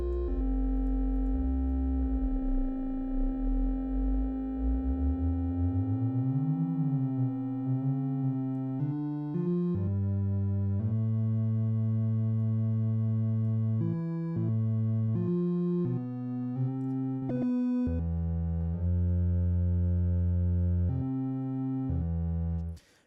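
A dark cinematic synth pad built in Reaktor sustains loud and continuous, its low drone sweeping in pitch before settling into a sequence of shifting held tones that cut off at the end.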